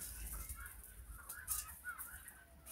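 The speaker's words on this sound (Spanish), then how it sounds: "este gallo que tenemos aquí" A fighting rooster at a gamecock farm gives short, scattered clucks and calls, moderately close over faint background noise.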